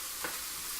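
Food sizzles in oil in a frying pan over medium heat, giving a steady, bright hiss with a brief stir near the middle.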